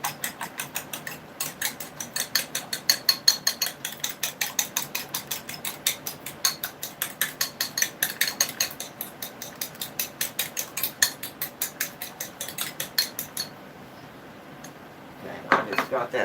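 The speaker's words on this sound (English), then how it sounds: "I'm just basically going to mix that up, just kind of whisk it up a little bit" A whisk beats a pie crust mixture for a homemade chicken pot pie in a bowl, making rapid, steady clinking strokes close up for about thirteen seconds before stopping, followed by a brief louder knock.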